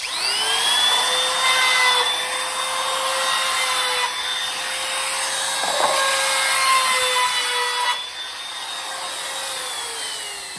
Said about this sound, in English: I can go ahead and route completely through.